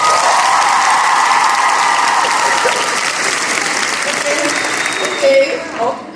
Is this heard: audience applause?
yes